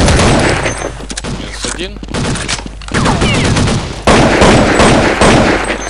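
Rapid rifle shots crack near and loud in a PvP shooter, several sharp bursts in quick succession over a noisy game background, with someone speaking briefly between them.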